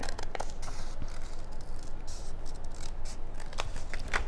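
Scissors snip through a paper template for a jar design, a steady close run of crisp cuts and crackly paper rustle with no talking.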